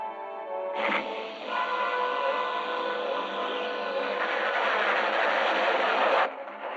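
Train sound effect from a radio drama serial, a continuous loud rumbling and clattering roar that starts abruptly, holds steady for several seconds and then cuts off, with no voices over it.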